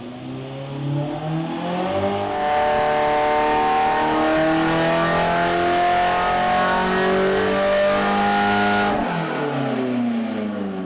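A RUF RGT8, a modern Porsche 911 fitted with RUF's own engine, revs hard and steadily for several seconds, its rising and falling engine note loud and close, then cuts off sharply near the end with no talk.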